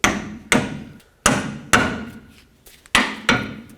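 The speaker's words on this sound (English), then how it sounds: "tap on the knuckle right here until it breaks free" A hammer strikes a steering knuckle on a 2007-14 Chevy Silverado to break it free from the lower control arm, about seven sharp metallic taps at an irregular pace, each ringing briefly and then decaying, close and with no speech.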